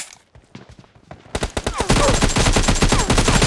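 Rapid automatic gunfire in a team deathmatch shooter game, loud and close, beginning with scattered single shots and building into dense continuous bursts.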